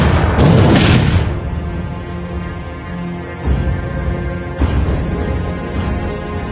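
A turret blows up in the Mobile Legends video game with a loud, booming blast at the start, followed by a quieter stretch of game sound and two further softer thumps later on.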